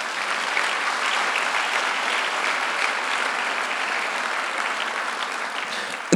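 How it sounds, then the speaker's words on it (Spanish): A church congregation applauds together, a broad, even wash of clapping from many hands that holds steady throughout at moderate loudness, with no speech over it. "Démosle un fuerte aplauso por esos sinceros."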